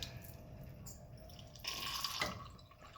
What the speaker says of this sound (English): if I dump this one out, give it a quick rinse